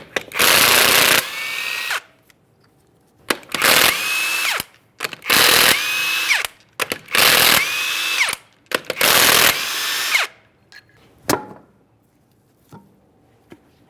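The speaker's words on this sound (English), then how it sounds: "we're going to remove all 5 of our 21mm lug nuts and we can get the wheel off of here" An impact gun zips off the 21mm lug nuts of a 2005-2010 Chrysler 300 rear wheel in five loud, close bursts, each a whirring rattle that rises in pitch, separated by short pauses and fainter clicks.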